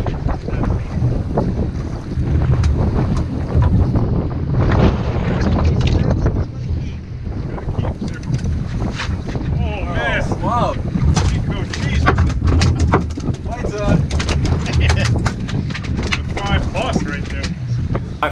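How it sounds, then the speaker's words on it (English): Strong wind gusts buffeting the microphone on a fishing boat out for blackfish, a loud roaring rush with water and hull noise underneath, with talking at times. "Cranking wind, which they didn't call for, of course."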